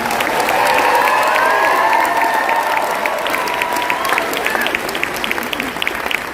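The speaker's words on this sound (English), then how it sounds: "please give yourself another huge round of applause" A large audience of over 2,000 at Enagic's 49th anniversary global convention in Las Vegas applauds loudly and steadily throughout, a dense wash of clapping with a faint sustained tone underneath that fades slightly toward the end.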